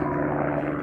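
Steady, loud rotor and engine drone of a helicopter passing over a mountain visitor area on Mt Taranaki, a continuous low throbbing hum filling the short moment with no voices.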